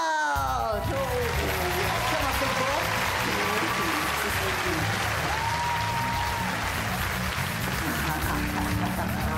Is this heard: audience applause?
yes